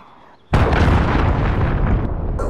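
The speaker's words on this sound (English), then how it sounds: "Allied cruise missile on the way." A cruise missile strike in the video game Modern Warfare lands with a sudden, loud explosion after a quiet moment, then a heavy, sustained rumbling roar that holds for about two seconds.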